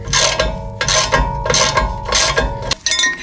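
A tool is tightened in repeated ratcheting bursts of clicking, about four strokes spaced evenly, while forcing a rear brake rotor off a 2021 Ford Ranger 4X4. The sound is close and loud.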